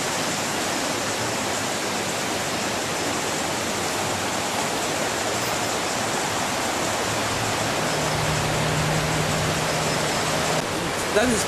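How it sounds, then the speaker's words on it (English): A river flowing beside a flower farm in Mutengene, a constant, fairly loud wash of running water that holds steady throughout with no talk. "that's part of the farm beside the water. Near the river flowing."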